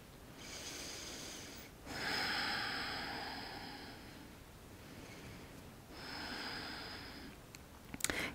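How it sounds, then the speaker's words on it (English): Slow, deep breaths are drawn in through the nose during a shoulder-blade tension release with a tennis ball, with long airy inhales and softer exhales, close and quiet with no talking. "I'm gonna breathe, inhaling through the nose,"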